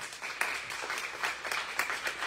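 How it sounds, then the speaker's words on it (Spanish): An audience claps for a speaker, a brief burst of moderately loud applause with individual hand claps audible in the mix and no talking. "de nuevo un aplauso por favor a Jorge"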